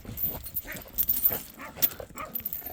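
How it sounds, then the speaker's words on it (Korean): A puppy or young dog barking and yipping outdoors in cold weather, a series of short, irregular sharp yaps with some whimpering, moderately close, with no talking. "그만 짖고"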